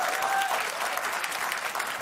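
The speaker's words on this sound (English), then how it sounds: "How could you applaud that?" A TV studio audience gives a short burst of applause. It is fairly faint and even, a steady wash of many hands clapping at once.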